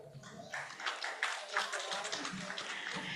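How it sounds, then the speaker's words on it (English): Audience applause for panelists at a global civil registration and gender symposium, faint and distant, a scattered patter of claps building into a steady round with some murmuring underneath. "Let's give a round of applause to our visitor"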